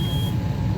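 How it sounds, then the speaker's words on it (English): A smoke alarm in a smoke-filled room after a fire gives a steady high-pitched electronic beep for a moment, then cuts off, over a low rumbling engine-like background. "the smoke alarm is still working"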